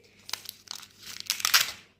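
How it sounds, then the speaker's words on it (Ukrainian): A paper surprise packet being torn open, with crinkling and ripping in several bursts that build to a louder rip near the end, close and with no talk. "Відриваємо пакетик під номером 5."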